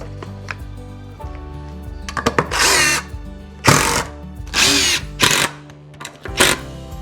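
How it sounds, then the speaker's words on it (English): Power drill driving screws into wooden tote storage shelves in a barn, several loud whirring bursts of a second or so each, separated by brief pauses and clatter. "I'm gonna go through and screw all the rest on."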